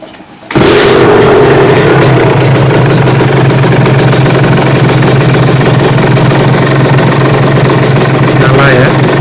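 A Kawasaki Ninja motorcycle engine, being worked on for emissions, fires up after a brief quiet moment and runs loud and close at a steady idle, a continuous rough throbbing that holds to the end.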